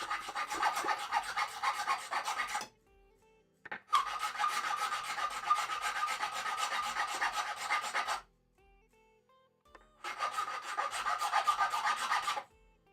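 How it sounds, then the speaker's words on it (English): A hand file rasping across a metal garden tool in three long bursts of rapid back-and-forth strokes, loud and close, with short quiet pauses between them. "The nice part about filing is it can start burnishing the parts."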